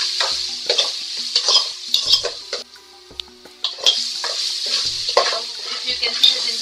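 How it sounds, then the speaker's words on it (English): Minced garlic and ginger sauté with onions in a pan for chana masala, a bright continuous sizzle broken by repeated spoon scrapes and taps against the pan, close and fairly loud. "You can see the ginger and the garlic have got sauteed very well."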